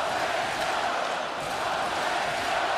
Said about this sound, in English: Crowd cheering their Generals on.